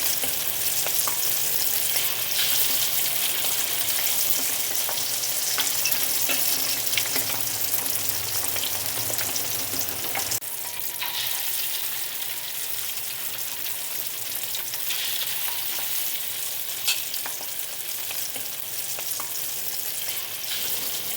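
Vegetables and meatballs stir-fry in a hot pan for fried rice vermicelli, a steady loud sizzle and crackle running continuously with scraping stirs, dipping slightly midway as more ingredients go in.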